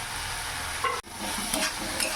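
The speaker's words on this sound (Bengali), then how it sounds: "আলুগুলো দিয়ে আবার কিছুক্ষণ 2-3 মিনিট কষিয়ে নেব।" Fried potatoes sautéing in spice paste with ginger paste for a rohu fish curry, a continuous close hiss of sizzling with a brief stir-scrape break midway.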